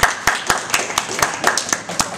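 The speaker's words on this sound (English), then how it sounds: "Clap, clap." Hands clapping in a quick, fairly regular series of about nine sharp claps, close and loud, during a playful prank.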